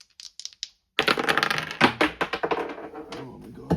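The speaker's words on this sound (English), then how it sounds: "I'm going to take out 2 of these dice, and let's see what I get" Two dice are rolled and clatter across a hard surface in a quick run of sharp, close taps and knocks, preceded by a few light clicks and a brief silence.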